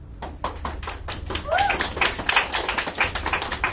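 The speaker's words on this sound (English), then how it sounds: "I think she deserves a clap." A group claps in applause at a sales talk: rapid, dense hand claps, loud and close, with voices talking over them.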